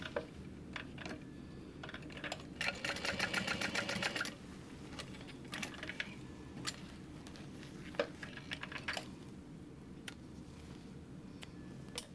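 A sewing machine top stitches a hip bag, a quiet close rapid patter that runs steadily for about two seconds and then continues in short bursts amid small handling clicks, with no talking.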